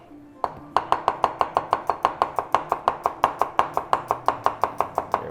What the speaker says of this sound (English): Let's get a nice garlic chopped